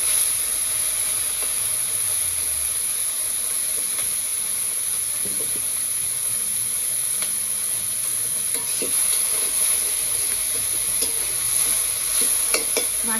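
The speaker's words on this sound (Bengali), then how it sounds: "মাছটাকে বেজে নই" Small fish frying in a pan, a continuous close sizzle with occasional crackles and pops, steady and loud with no talking over it.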